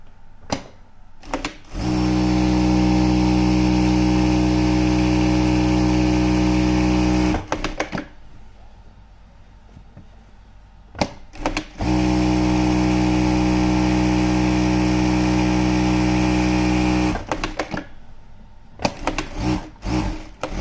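A Voltex overlock sewing machine runs loud and steady in two long bursts, with a short pause between them.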